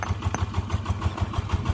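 A VST Shakti 13 hp tractor engine runs on a farm during millet threshing work, a steady rapid low thumping close by, loud and continuous without talk.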